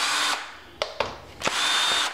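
Cordless power drill backing screws out of a washing machine transmission during a DIY repair, whirring loudly near the mic in long bursts separated by short pauses and a few sharp clicks.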